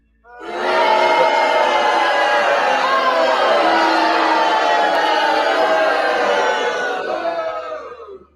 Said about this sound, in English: why are you booing your good reverend?